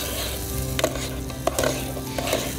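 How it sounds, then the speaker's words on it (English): Onions brown in a pan with a dense, close sizzle, punctuated by a few scraping stirs and soft utensil knocks against the pan. "we had just a little bit there browning on those onions"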